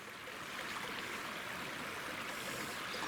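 A small backpacking creek flows steadily at a shallow crossing, a soft continuous rushing and trickling of water heard alone at low volume with no voices.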